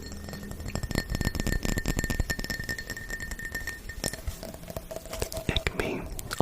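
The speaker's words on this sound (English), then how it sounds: "it is glass tapping" Fingers or nails tap busily on glass for ASMR, a close, quick, uneven stream of bright clinks and clicks that thins out and grows sparser toward the end.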